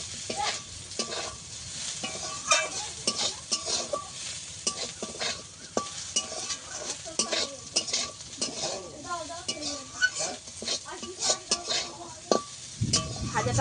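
Poppy seeds and vegetables are stirred and fried in a pan, giving a steady low sizzle broken by repeated scraping strokes and sharp metallic clinks of a spatula against the pan.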